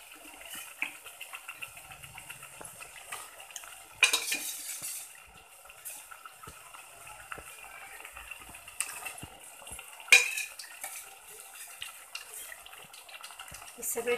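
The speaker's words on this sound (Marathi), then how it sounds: "त्यात आता आपण हे चिकनचे पीसेस टाकून घेणार आहोत." Chicken pieces sautéed and stirred into a spicy oil-rich masala in a pan, heard as quiet frying with scraping stir strokes and two sharper utensil clatters against the pot.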